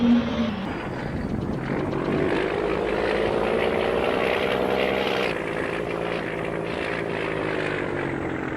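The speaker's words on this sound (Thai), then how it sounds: "ชอบเสียงโบนี้เหลือเกินนะครับ" A combine harvester's blower in Farming Simulator 22 gives a loud, steady mechanical whine and roar, holding a constant droning pitch with a slight rise, continuous throughout.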